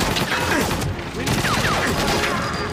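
Gunfire in GoldenEye 007 on the Wii, with rapid broadband bursts of shots and ricochet-like sweeps running continuously through a dense, loud game mix with faint voice chatter underneath.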